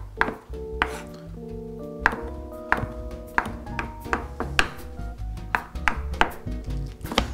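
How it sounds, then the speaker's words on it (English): Knife chopping green onions and other seasonings on a cutting board for a stuffed meatloaf, steady rhythmic thunks close by with ringing clinks, no voices. "So I'm going to chop all this stuff up and get it into the hot grease over here"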